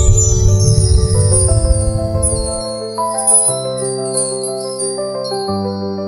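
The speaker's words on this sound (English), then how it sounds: "You have found the discordant chimes." Discordant chimes ring in a layered, sustained cluster of tones, with notes shifting and overlapping over a low rumble that fades after the first few seconds.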